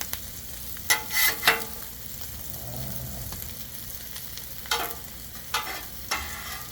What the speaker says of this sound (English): since the pork chops are still cooking